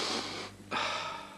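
A patient in an old drama takes a long, deep breath in close to the microphone, a breathy rush that pauses briefly and resumes, quiet and alone.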